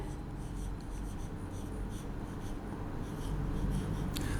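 Marker or chalk scrapes steadily across a board while a chemistry reaction equation is written out during a classroom lecture, a continuous close rubbing texture with no pauses and no voices.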